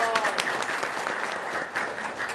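An audience applauding during an Indonesian talk, a steady, moderately loud patter of many hands clapping, with a few sharper individual claps standing out.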